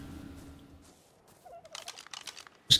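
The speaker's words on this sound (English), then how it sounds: "Just keep an eye out for that bird." A bird creature in the video game ARK, in The Center map, gives a gobbling, turkey-like call amid a flurry of light clicks, moderately close and fairly faint, without speech.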